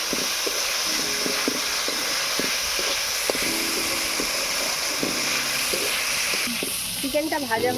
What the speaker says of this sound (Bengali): এবারে ভালো করে নেড়ে চেড়ে চিকেনটাকে ভেজে নেব।